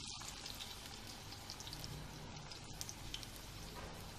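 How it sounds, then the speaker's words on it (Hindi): Bread pakora fries in hot oil with a faint, steady sizzle and scattered soft crackles, continuous throughout with no voices over it. "मैं तल रही होंगी।"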